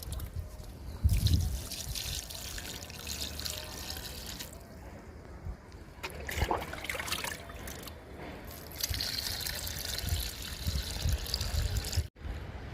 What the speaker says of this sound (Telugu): బాదం పప్పు నానబెట్టిన వాటరు, బియ్యం గడిగిన వాటరు, పప్పు గడిగిన వాటరు 3 కలిపి లిక్విడ్ ఇస్తున్నానండి నిమ్మ మొక్కకి